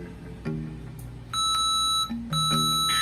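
Electronic beeps from a Pisowifi coin vending machine prompting a coin insert: short tonal bleeps, then sustained bright alarm-like tones in two long bursts with a brief gap, fairly loud over low background hum.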